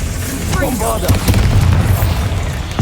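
Bombarda blasting spell in Hogwarts Legacy: a short magical charge-up followed by a heavy, booming explosion with rumbling debris that stays loud to the end, with a voice briefly heard in the game audio.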